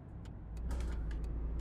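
Dodge Challenger SRT Hellcat with a 707-horsepower engine in the City Car Driving simulator, pulling hard in third gear at full throttle; a steady, loud low engine roar builds slightly, with faint high clicks above it.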